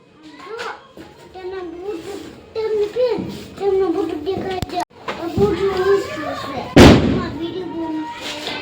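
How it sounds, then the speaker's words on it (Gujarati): Children chatter and shout nearby while Diwali firecrackers pop outside, with one loud sharp bang near the end standing out over the voices. "ફટાકડાનો અવાજ જ આવશે બહુ, કેમ કે બહાર બધા ફોડે છે ને"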